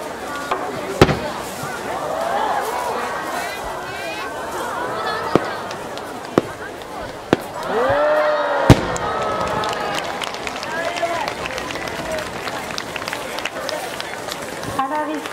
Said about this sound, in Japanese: 花火から皆様へ今度は感謝の気持ちを込めてお礼の花火。